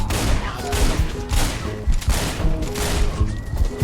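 Pistol gunfire in the video game Wet, rapid repeated shots forming a dense, loud barrage with booming impacts and game music underneath, continuous across the whole stretch.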